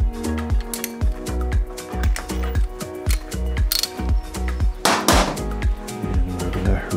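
A hand ratchet clicks rapidly while seating a spark plug on a Yamaha R3 motorcycle, close, loud metallic pawl clicks in quick bursts with short pauses between strokes, and no talking.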